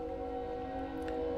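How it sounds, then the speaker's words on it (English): A train rolls past at some distance with a steady, sustained droning tone, like a horn or whistle, holding at an even, moderate level throughout the short stretch. "But I think that is the train is coming on by just in time."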